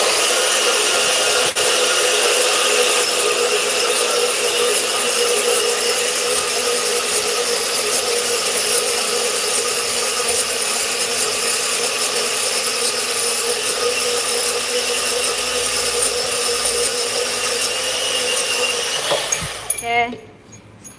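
A pipe cutting machine cuts through steel pipe with a steady, loud, dense grinding whir that holds level for about nineteen seconds before winding down at the end.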